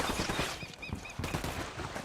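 Gunfire in Ghost Recon Wildlands, a continuous burst of rapid shots with clattering bursts that keeps going for about two seconds, loud and dense.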